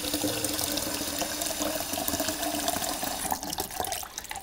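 Tap water filling a pitcher for a crock pot while making pot roast, a steady close rushing pour that shifts slightly in tone near the end as it fills.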